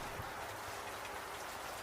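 Steady rain falling at night, a continuous soft hiss of drops on surfaces, even and unbroken from start to finish with no voices.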